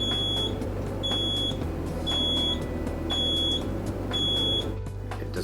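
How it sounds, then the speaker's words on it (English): A Quick Mill Andreja Premium espresso machine sounds its low-water warning: five short, evenly spaced high electronic beeps, each about a second apart, clear over a steady low machine hum. "One activates a low audible beep when you begin to run low on water."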